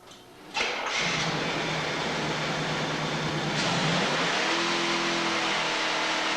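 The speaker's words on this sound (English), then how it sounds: "you want to start your car up and let it run at slow RPMs to get proper lubrication" A car engine cranks and catches after an oil change, then settles into a steady idle, with a brief starter whir followed by a continuous low engine hum. Close and clear, with no talking.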